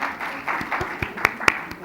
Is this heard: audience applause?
yes